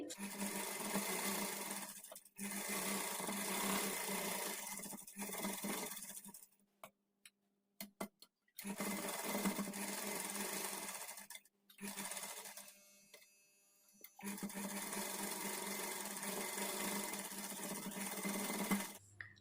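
Sewing machine running in long steady bursts while stitching blouse sleeves, with short pauses and a few light clicks between runs; no talking.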